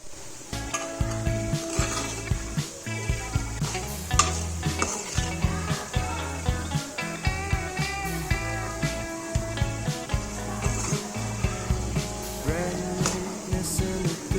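Chicken pickle frying over a low flame, a steady soft sizzle under repeated stirring and scraping of a pan, with occasional clinks of utensils, close and continuous with no talk.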